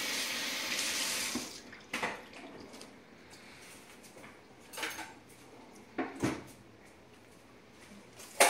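Tap water runs over a ladyfish fillet being rinsed in a sink, with a steady splashing stream broken by several sharper splashes and clinks nearby.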